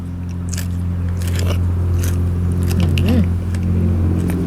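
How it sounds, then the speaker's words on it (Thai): Crunchy fresh garlic stalks bitten and chewed up close, a string of crisp bites and crunches over a steady low background hum, with brief voiced sounds mixed in. "ต้นกระเทียมกรอบ แต่ว่าฟิลแบบคือกัดแล้วมันกรอบเนาะ"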